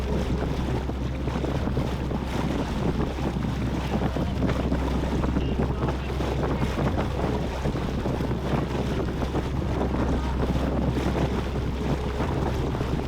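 Strong wind buffets the microphone in a steady roar, with water rushing past a moving sailboat underneath, continuous and loud throughout.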